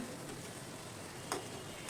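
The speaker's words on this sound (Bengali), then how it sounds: "একদিকে দেখুন ভাজা হয়ে গিয়েছে, তাই আমি আরেকদিকে উল্টে দিচ্ছি।" Spinach koftas fry in a pan of oil, a steady low sizzle throughout with a faint tick or scrape near the end.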